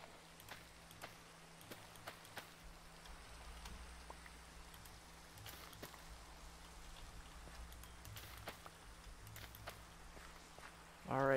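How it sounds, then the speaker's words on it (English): Steady light rain patters in a farming video game, a soft continuous hiss with scattered drip-like ticks and faint footstep-like taps, while a person talks over it. "Oh, it's raining."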